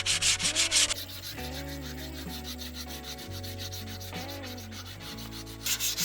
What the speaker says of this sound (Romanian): L-am dat cu șmirghel de 120 până acum, iar pentru finisaj o să încep să-l dau cu unul de 180